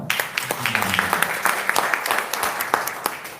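An audience at an Atomy business session in Surabaya breaks into brisk, dense clapping, near and fairly loud, with a voice speaking briefly beneath the applause.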